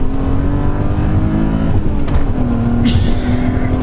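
A BMW E34 M5 3.8 Evolution accelerates with a steady, loud engine drone heard from close by, the pitch shifting as it pulls through the gears.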